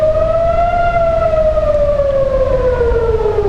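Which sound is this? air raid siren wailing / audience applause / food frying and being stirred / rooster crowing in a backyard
air raid siren wailing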